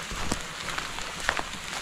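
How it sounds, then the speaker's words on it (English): Soft, steady patter of rain falling at a seaside boat camp, faint and diffuse, with a few closer drops and light taps standing out. "everywhere I go, the rain seems to follow me"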